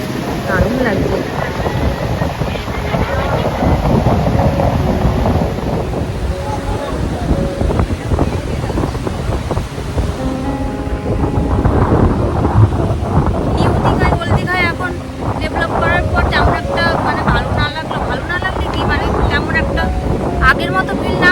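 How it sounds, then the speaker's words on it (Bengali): Strong wind and rough sea waves at the Digha river mouth in monsoon season, a loud continuous roar with wind buffeting the microphone throughout, and faint voices mixed in beneath. "যেমনি ঢেউ তেমনি হাওয়া আছে"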